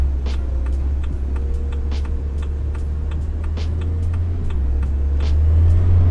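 A Mercedes Sprinter van drives in Fernbus Coach Simulator, a steady low engine rumble with road noise and faint ticking, swelling slightly toward the end.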